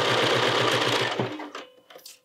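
A sewing machine stitches a Hemlock garment in one brief, loud, rapid run that stops abruptly, followed by light clicks as it comes to rest.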